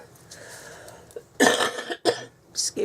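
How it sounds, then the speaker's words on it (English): A person coughs sharply a couple of times, close and loud, after a quiet stretch of low background noise. "I still have this wretched blubbing cough."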